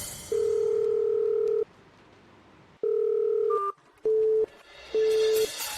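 A series of steady telephone dialing tones, one long beep, then shorter ones with brief gaps, clear and close with no talking.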